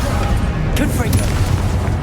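Explosive Confringo spell blasts in Hogwarts Legacy, a dense rumbling boom over constant loud battle noise, with a voice shouting over the fight.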